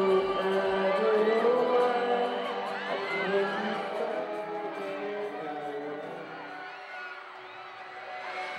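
A crowd at a beauty pageant event cheers and whoops after a song performance, many voices shouting and hollering together, loud at first and gradually easing off while the noise keeps going.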